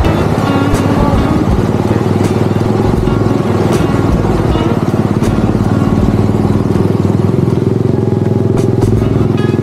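Motorcycle engine running steadily throughout during a solo ride on the Marilaque road in Tanay, loud and close with a continuous rumbling drone, light clatter and some wind.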